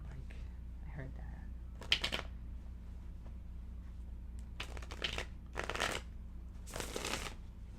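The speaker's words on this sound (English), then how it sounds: "let me shuffle one more time" Tarot cards being shuffled, several crisp riffling bursts separated by quieter pauses, close and clear over a faint background hum.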